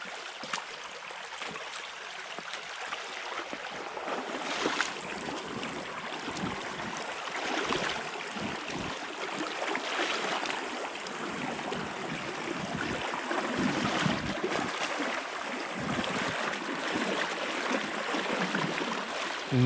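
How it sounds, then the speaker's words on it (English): Strong stream water rushing steadily through one narrow spot of a creek, a dense, continuous broadband roar close by that never lets up. "Amazing how strong the water is in this one little spot now."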